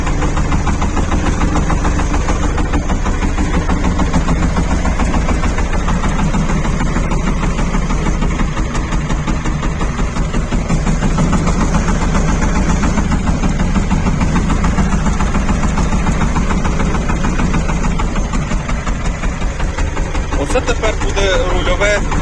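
A steady, loud Shifeng 244 tractor engine idles continuously with a low rumble and a faint whir from a newly fitted MTZ steering metering unit running underneath it.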